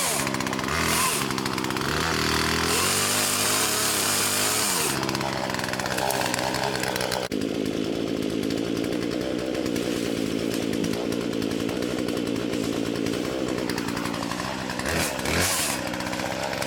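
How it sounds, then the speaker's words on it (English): A chainsaw on a ranch trims small brush, its engine screaming loudly and continuously up close, with bursts of revving and bogging as it cuts through growth. "if you're going to trim brush with a chainsaw, always make sure your chain's tight"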